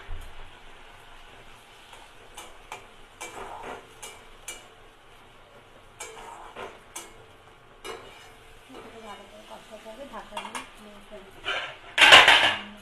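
Tomato goes into a pan with pointed gourd and rice and is stirred, giving scattered clinks and scrapes of a utensil against metal, soft sizzling, and a louder clatter near the end.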